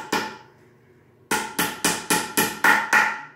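A small galvanized nail is hammered into a log used for mushroom cultivation to fix a label, with one sharp strike, a pause, then a quick run of seven crisp, close metallic blows.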